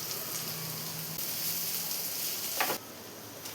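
Vegetables for chicken fried rice being stirred in a hot pan, giving a steady, fairly loud broadband sizzle with a brief scraping clatter near the end and no talking.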